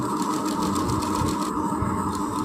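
A sewing machine stitching a border strip onto a long gathered frock, steady rapid mechanical whirring and needle rattle, loud and close throughout without pause.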